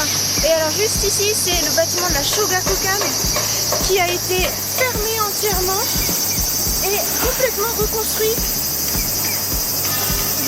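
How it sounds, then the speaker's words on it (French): Cicadas in Japan in summer drone loudly and constantly in a high, shrill chorus while someone talks over them throughout. "on entend bien les cigales, c'est le bruit de l'été au Japon pour moi"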